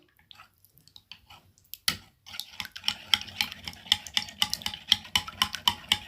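Wet, squishy stirring of a homemade natural hair mask for kinky and curly hair, a spoon or whisk clicking against a bowl in quick irregular strokes, close and fairly quiet.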